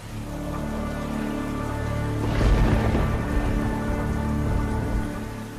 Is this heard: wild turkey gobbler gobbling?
no